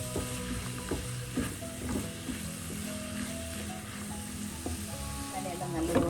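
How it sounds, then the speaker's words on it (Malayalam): Cumin and fennel powder sauté in a pan for a spinach chicken curry, producing a moderate, continuous sizzle with scraping and clicking stirring strokes close by. "പച്ചമണം മാത്രം ഒന്ന് വഴറ്റി എല്ലാം കൂടെ ഒന്ന് വഴറ്റിയെടുക്കാം"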